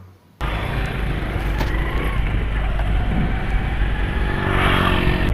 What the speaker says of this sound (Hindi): तो फ्रेंड्स, ये देखिए मेरी बाइक चल रही है, बिल्कुल स्मूथ चल रही है।